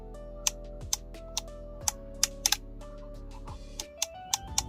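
Crisp, audible clicks from the potentiometer knob of a rechargeable LED lamp, about a dozen sharp ticks at an uneven pace, close and distinct over a low steady hum.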